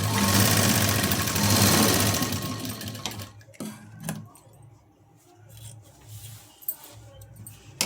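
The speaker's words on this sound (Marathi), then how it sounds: "इथं आपण एक शिलाई देऊन घ्यायची आणि ही अशी जोडून घ्यायची आहे बघा" Sewing machine stitching two fabric piping strips together, a loud continuous whirring run for about three seconds, then quieter handling clicks and brief taps.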